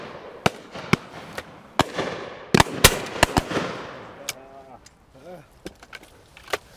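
Sharp shotgun reports crack out at a hillside game shoot, several loud shots spaced irregularly over a few seconds with short echoing tails. Someone speaks briefly between the blasts.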